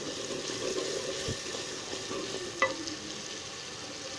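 Tadka for dal sizzling and frying in a pan while being stirred, a steady close crackle with a faint clink of the spoon partway through.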